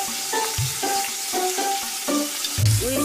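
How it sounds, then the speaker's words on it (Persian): Beef sizzles steadily as it fries in a pot while a utensil scrapes and clanks in repeated stirring strokes, close up and fairly loud. "گوشت رو سرخ می‌کنیم و می‌چرخونیم."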